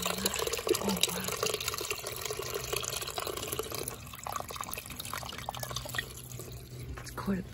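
Rainwater from a leaking roof drips and splashes steadily indoors, a dense wet patter under a low background hum, with a voice speaking at times.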